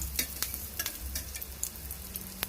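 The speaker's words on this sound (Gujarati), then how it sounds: "પુડલો પણ પાથરી દીધો છે લોઢીમાં" Chickpea and rice flour pudla batter, with greens, coriander, green onion, chilli and ginger, sizzles on an iron griddle as a close, steady fry broken by quick, sharp crackles and pops.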